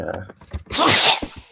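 A single loud, close sneeze bursts out between brief bits of talking.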